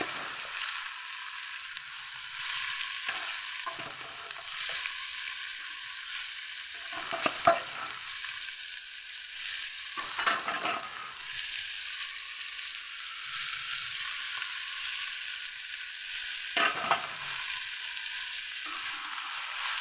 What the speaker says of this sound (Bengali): এই যে দেখো ভাজিটা মোটামুটি হয়েছে, অল্প আছে, ভাজতে হবে